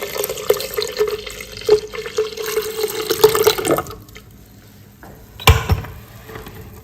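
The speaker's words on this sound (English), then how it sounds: "We'll go ahead and pour our orange juice in the blender." Orange juice pours steadily into a blender with a gurgling, splashing stream for a few seconds, then tapers off into quieter drips and a brief clunk.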